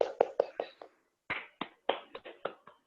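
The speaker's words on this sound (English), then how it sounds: "so I have clapped" A run of sharp hand claps, five quick ones, a short pause, then about seven more at an uneven pace, each a crisp slap with a short decay, close up and clear against quiet.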